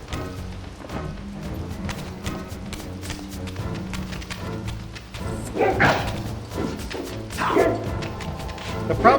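Dogs barking in the video game Soul Reaver 2, a series of sharp barks and yips over game music and effects, growing louder toward the end.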